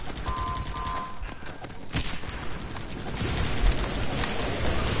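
Dense bursts of video-game gunfire crackle through a busy shooter match, with rapid overlapping shots and mechanical clatter over a steady, loud wash of battle noise.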